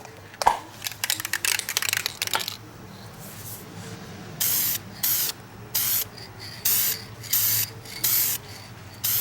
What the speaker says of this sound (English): Here we're going to spray the yellow on next.